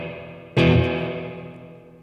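Spring reverb on a Boss Katana 100 combo amplifier: a sudden loud struck twang followed by a metallic, vibrating wash that slowly decays over the next second and a half.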